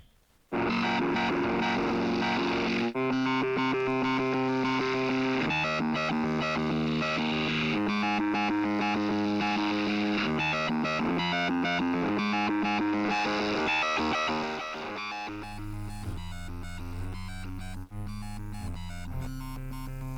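Loud, gritty synth through amp sim distortion playing a chordal riff, sustained and buzzing, with a shift to a darker, bass-heavy tone near the end.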